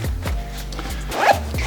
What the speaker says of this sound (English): you can bring that zipper up if you want a little bit of venting on a warmer day